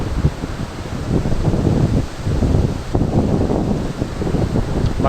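Water surges through three open flood gates at Hari ke Head headworks, a loud, continuous, close-up roar of rushing water that never lets up, mixed with gusty wind buffeting the microphone.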